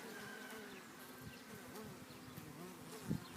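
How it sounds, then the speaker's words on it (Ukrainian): Honeybees buzzing at a hive entrance while cleaning out the hive, a steady soft insect hum with faint individual passes, fairly quiet and without speech. "чистять вулик зразу, викидають бджілок звідси із середини"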